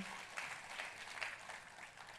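Church congregation applauding together during a worship service, a steady, fairly faint wash of clapping with no distinct individual claps standing out.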